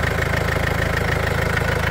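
A 2014 Mercedes-Benz E300 CDI diesel engine idles steadily up close, a rough, evenly pulsing clatter with a low rumble that holds constant throughout.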